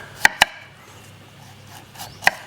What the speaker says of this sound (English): When I'm cutting a carrot into a julienne, what I like to do is cut